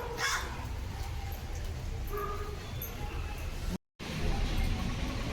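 A crow caws a few times outdoors, faint against steady background noise and distant voices, with a brief dropout partway through.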